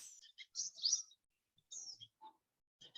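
Birds chirp outdoors among grass and flowers: scattered short, high tweets and trills come in small bursts with quiet gaps between them, faint and somewhat distant, with no talking.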